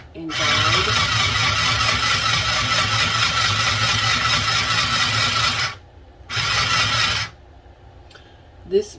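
A Singer Stitch Quick sewing machine runs through fabric in two bursts, a long steady whir of about five seconds, a short pause, then a second shorter run, close and loud, with a small click after.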